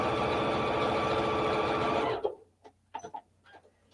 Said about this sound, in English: I'm gonna sew right across there.